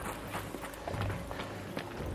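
Running footsteps in a video game, a quick series of soft thuds at a moderate distance over a low background hum.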